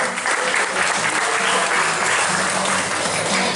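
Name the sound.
audience applause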